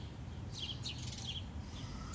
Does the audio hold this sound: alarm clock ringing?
no